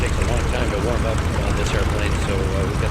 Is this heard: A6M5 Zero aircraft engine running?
yes